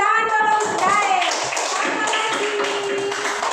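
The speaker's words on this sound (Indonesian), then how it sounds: "Tepuk tangan dulu untuk Dair." A classroom of children applauds a classmate, a burst of quick, overlapping hand claps that stays fairly loud and even for a few seconds, with young voices chattering underneath.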